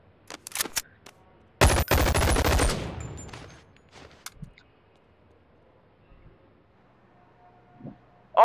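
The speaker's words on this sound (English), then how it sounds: "Let's shoot a gun." Gunfire in the VR game Boneworks: a few sharp shots early on, then a loud sustained burst of rapid fire lasting about a second, followed by scattered quieter clicks and thumps.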